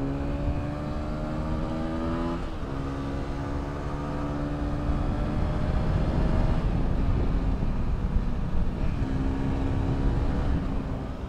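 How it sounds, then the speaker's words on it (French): A Mondial Pagani 125 motorcycle engine accelerates through the gears on an extra-urban road near the seafront, revs climbing in repeated rising sweeps broken by brief shift dips, loud and close, without speech. "Le moteur est volontaire. Il va monter jusqu'à 11 200 tours minute."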